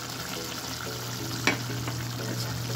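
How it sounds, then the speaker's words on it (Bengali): Pepper chicken being stirred in a pan, a continuous sizzle and fry under soft scraping with one sharper clink of the utensil partway through, close and fairly loud. "এবার এটা দিয়ে ভালো করে আমি একটু নাড়িয়ে দেবো"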